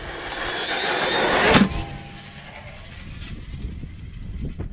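Arrma Italion 6S RC car rips past with a high, whining electric motor that swells loudly, then cuts off and fades to quieter rolling and scuffing noise.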